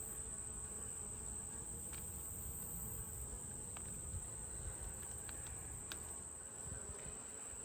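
Honeybees from a queenless hive buzzing during an open-hive inspection of a split, a constant close insect drone with faint ticks and no talk.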